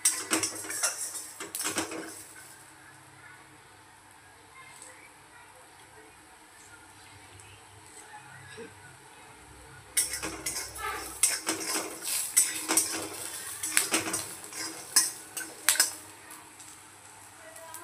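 Peanuts are dry-roasted and stirred in a pan, producing clattering bursts of nuts rattling and utensil scrapes that alternate with quieter stretches, busier and louder in the second half.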